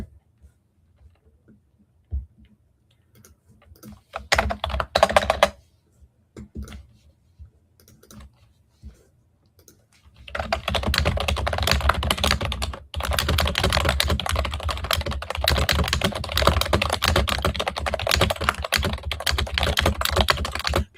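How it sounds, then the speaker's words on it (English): Keys clack on a computer keyboard in scattered bursts at first, then settle into fast, steady, close typing that runs without a break through the second half. "If everyone likes the keyboard ASMR, give me 1 second. I do actually have to write something down"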